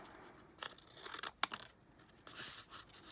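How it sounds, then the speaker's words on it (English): Scissors snip through material in a few short, crisp cuts, quiet and close, with brief rustling between them. "Gotta be careful what scissors I use to cut this."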